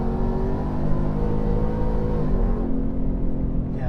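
A modded 700 HP Ford F-150 Raptor R revs hard and accelerates, its engine a loud, steady, rising roar close by that eases off slightly near the end.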